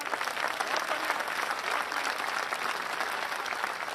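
A crowd at a Hindi kavi sammelan poetry recital breaks into brisk, continuous clapping, a thick wash of hands that stays fairly level through the short burst.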